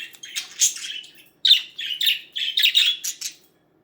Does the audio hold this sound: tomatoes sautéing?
no